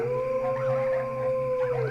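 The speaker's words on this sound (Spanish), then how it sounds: "los perros aullaban, ladraban feroces" Dogs howling, a long sustained close howl with wavering overlapping howls behind it, steady and loud throughout, no barks clearly separate and no talk.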